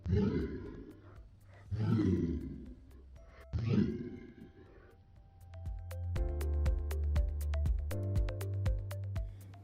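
Three loud, deep animal roars rise and fall in slow succession, each long and rumbling, followed by a sustained low droning tone with sharp repeated clicking accents.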